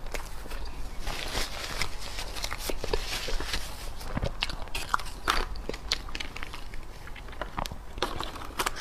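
Close, crunchy bites and chewing of snow skin moon mochi with melon filling, a steady run of soft sticky mastication sounds and small crackles over nearly nine seconds.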